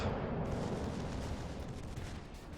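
Heavy naval gunfire in World of Warships Legends, a battleship's guns shooting at the broadside of the Odin: a dense, loud rumbling roar of blasts that stays sustained throughout with no clear gaps.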